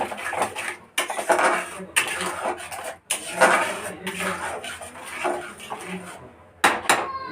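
A tilapia being stirred in a metal pan with a spatula gives repeated scraping and clattering strokes, and a lid clanks on near the end; it is close and fairly loud, with no talk over it.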